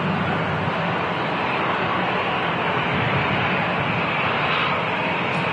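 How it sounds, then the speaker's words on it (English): An EasyJet Airbus A320 rolling along the runway at Manchester Airport: a loud, steady broadband jet roar that holds constant throughout, with no voices over it. "EasyJet's now rolling on the runway, the A320."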